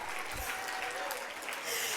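Audience applause at a literacy coalition symposium in Newark, a steady wash of many hands clapping for the parents, held throughout with a voice speaking over it.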